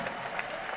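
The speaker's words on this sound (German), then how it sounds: "Applaus." Crowd applause at a WE LOVE MMA 16 mixed martial arts event, a steady wash of distant clapping from a large audience, fairly faint and continuous through the short moment.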